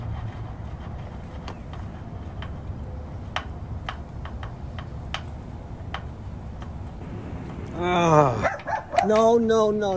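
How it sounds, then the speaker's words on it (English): During an early morning walk, a dog barks and yips several times near the end. Before that come steady outdoor background noise and faint regular ticking, and a person talks nearby. "You don't bark at neighbor."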